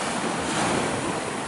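Caribbean Sea waves off Jamaica wash in a continuous broad surf hiss, close and fairly loud, with wind buffeting the microphone.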